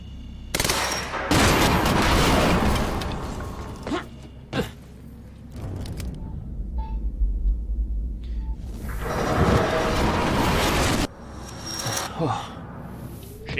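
Gunfire erupts in the Quantum Break video game, heavy loud bursts in two main volleys with quieter rumbling and creaks between them, a voice speaking at times.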